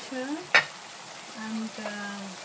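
Capers, olives and green beans fry steadily in a pan with a soft continuous sizzle, one sharp clack of a utensil near the start and faint speech murmuring underneath.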